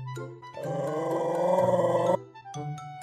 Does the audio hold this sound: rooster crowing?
no